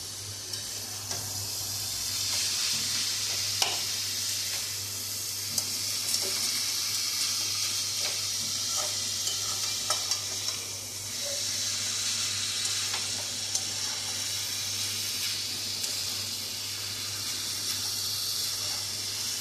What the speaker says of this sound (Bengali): এবার বেগুন দিয়ে দিচ্ছি।